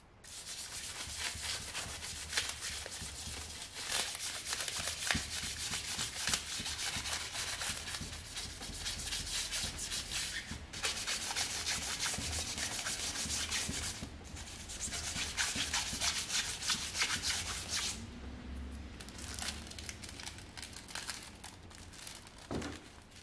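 A stiff plastic bristle brush rubs metallic transfer foil onto a chair in continuous scratchy, crinkly strokes, steady and close, with short pauses between passes.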